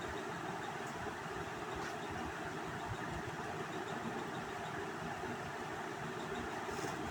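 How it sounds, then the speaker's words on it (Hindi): Steady sewing machine stitching a palazzo runs continuously from start to finish, a constant mid-level mechanical hum and whir with no talk over it. "और इस तरीके से सिलाई लगाते हुए जाएंगे"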